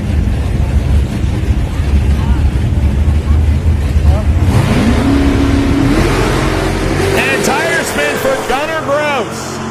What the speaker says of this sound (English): The double-entered 95 Camaro now will face Jim McMillan out of Port Charlotte, Florida, the Buick Regal right-hand side of the racetrack.